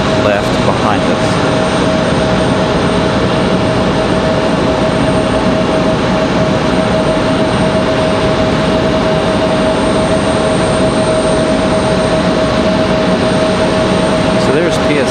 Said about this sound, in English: our other FedEx ATR is on final